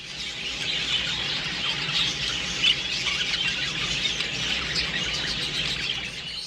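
Dense, continuous chatter of many budgerigars chirping and squeaking together, steady and close, with no talking.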